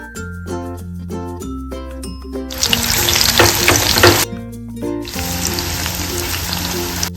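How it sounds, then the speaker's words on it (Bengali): Batter-coated drumstick flower fritters dropped into hot oil, opening with a few bright clinks and clatters before bursts of loud, close crackling sizzle that swell, pause briefly, and return steady, with no talking. "এখন আমি এই বড়াগুলো দিয়ে দিচ্ছি।"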